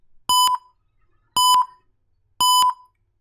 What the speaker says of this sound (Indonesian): Dan si buzzer ini akan berbunyi berulang kali dalam waktu yang tidak terus-menerus.